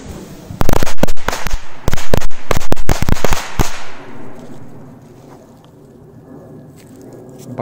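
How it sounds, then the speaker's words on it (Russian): A rapid string of sharp firecracker bangs crackles in quick succession for a few seconds, then fades into quiet outdoor ambience. "Давайте бахнем пулеметку."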